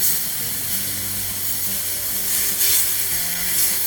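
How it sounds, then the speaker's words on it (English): Filet mignon steaks searing in a hot pan, a continuous close hiss and sizzle with a low hum beneath, steady and fairly loud throughout, no voices. "The steaks look really good. They have a nice sear."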